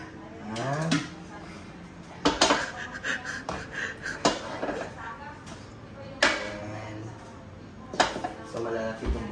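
Vegetables for a pot of bulalo are dropped and handled, with clunks, knocks and clattering of pans at irregular intervals, close by, while people talk throughout.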